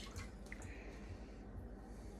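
Soft, steady trickle of liquid being poured, faint and continuous with a few light drips, no voices.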